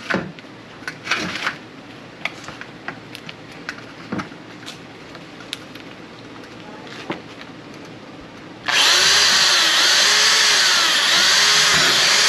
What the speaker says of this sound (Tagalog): Medyo matigas lang siya butasin, kailangan matalas yung ano nyo, yung pambutas.